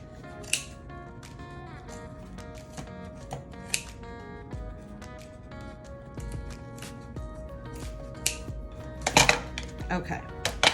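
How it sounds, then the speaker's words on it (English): Scissors snip through jute twine to make a tassel, giving a series of crisp, irregular cuts close by, with rustling and handling noise between them. "I'm gonna cut all of the jute"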